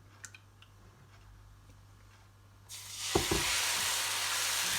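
Rice and oats ghavane batter poured onto a hot pan over high heat: low kitchen hum, then a sudden loud, continuous hissing sizzle with a couple of clunks that carries on steadily.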